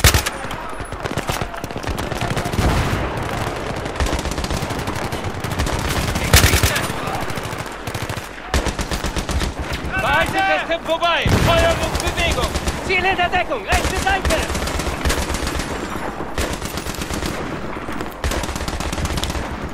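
Dense, heavy gunfire from the Battlefield 3 video game, with rapid machine-gun bursts and repeated shots running almost without pause, loud and close throughout.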